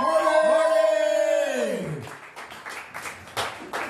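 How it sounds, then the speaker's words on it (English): Applause for comedian Martin Malloy at a Cleveland comedy show swells after a sustained, drawn-out shout, settling into uneven crowd clapping with a few sharp bursts. "Give it a big round of applause for Martin Malloy, everybody."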